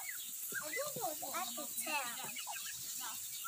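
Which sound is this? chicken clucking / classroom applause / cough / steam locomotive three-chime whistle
chicken clucking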